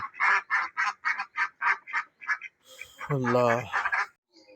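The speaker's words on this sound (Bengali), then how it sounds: "শুধু কিছু মুরগির ডাক পাখির ডাক" Poultry on a village farm call out in a quick run of about ten evenly spaced clucks, followed by a louder, drawn-out honking cry, all close and clear against a quiet background.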